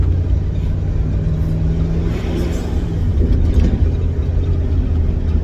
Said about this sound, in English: So we're going to drive it around the block